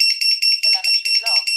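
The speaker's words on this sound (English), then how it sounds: "I get the beeper to beep" A beeper on a custom-built 3-inch quadcopter gives a rapid run of about eight bright, shrill electronic beeps in steady rhythm, loud and close, with a voice briefly talking beneath it.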